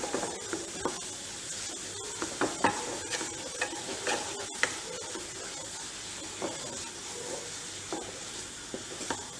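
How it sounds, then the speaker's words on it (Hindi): A spoon stirs a milk mixture with lightly sautéed coconut for modak in a pan, a soft, constant sizzle broken by irregular scraping clicks, no talking. "अच्छे से इसको मिक्स कर लेंगे और इसको हिला लेंगे।"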